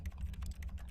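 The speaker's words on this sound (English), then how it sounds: "Press O on your keyboard." A computer keyboard pressed in a short burst of several quick, close, crisp keystrokes, heard alone.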